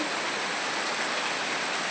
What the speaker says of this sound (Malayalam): എന്തൊരു മഴയാണ്